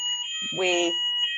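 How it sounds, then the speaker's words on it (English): An indoor fire alarm sounds with a steady, piercing electronic tone throughout, while a person talks briefly underneath it. "That's the fire alarm."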